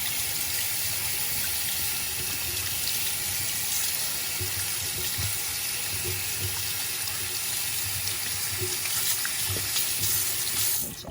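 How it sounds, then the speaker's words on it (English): A makeup brush mat is rinsed under a running tap, a steady close gush of water splashing into a sink for about eleven seconds, cutting off at the end, with no talking. "so let's do 15 seconds rinsing it off."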